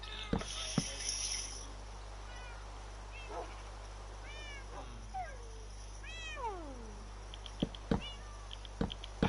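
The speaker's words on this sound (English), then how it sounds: "I love the constant meowing." Repeated cat meows, some drawn out and rising, heard over a steady low hum with occasional sharp clicks.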